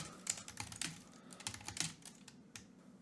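Code typed on a computer keyboard, a quiet, steady patter of rapid individual keystrokes with small uneven pauses, close and alone.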